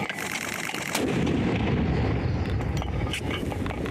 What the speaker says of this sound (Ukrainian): Мінометники отримують точні координати й установки починають працювати.